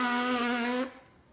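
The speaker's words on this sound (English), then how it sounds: "that's what it sounds like when you just buzz without a mouthpiece or without the instrument" A trombonist buzzes the lips with no mouthpiece or instrument, giving a steady, close, nasal pitched buzz that holds for under a second and then cuts off, leaving only faint room quiet.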